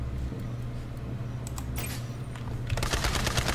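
Cyclone vehicle guns in Borderlands 3 fire a rapid automatic stream over a steady low engine drone, with the bursts growing denser and louder toward the end.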